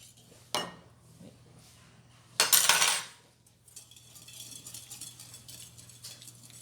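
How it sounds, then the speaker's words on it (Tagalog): Egg yolks being mixed in a bowl, with a few sharp clinks of utensil against the bowl followed by soft, faint stirring and scraping in a quiet kitchen. "on another bowl, then we mix all together the egg yolks"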